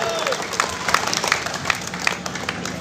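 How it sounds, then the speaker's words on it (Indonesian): An audience applauds the regional coordinators at the inauguration of a Forum Betawi Rempug secretariat office in Bekasi, brief scattered clapping with sharp individual claps and crowd murmur. "Kita tepuk tangan Bang buat para korwil Sejabodetabek"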